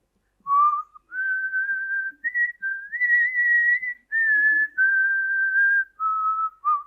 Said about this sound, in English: We'll whistle Amazing Grace together.